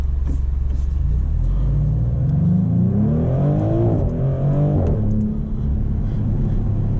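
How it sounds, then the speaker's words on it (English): A 2025 Maserati GranCabrio Trofeo accelerates hard from inside the cabin, its engine note climbing steadily through the rev range as the car gains speed, with a brief dip like a gear change partway through and a loud, continuous rumble throughout. "And it accelerates to the speed limit very quickly"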